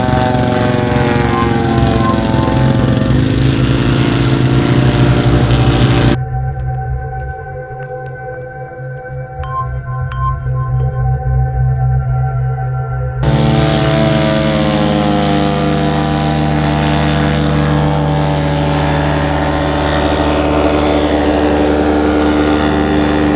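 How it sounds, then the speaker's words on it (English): Gas-powered float plane engines droning loudly as the aircraft flies past, a steady buzzing propeller roar that drops away briefly, then returns close and strong. "Now there's a plane that doesn't need a long runway."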